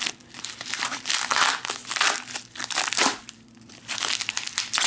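Crinkling and tearing of a heavily taped gift wrap being pulled open, loud close bursts of crumpling paper and ripping tape in uneven surges with a short lull, and no speech.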